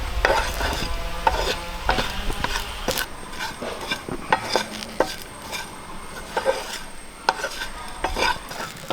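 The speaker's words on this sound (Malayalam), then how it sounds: "നമുക്ക് തേങ്ങ നല്ലപോലെ ഒന്ന് വറുത്തെടുക്കാം" Grated coconut roasting in a pan for a Kottayam-style fish curry, with steady stirring scrapes and frequent sharp clinks of a spoon against the pan and a faint sizzle underneath, close and continuous with no talk.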